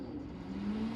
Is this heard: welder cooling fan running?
yes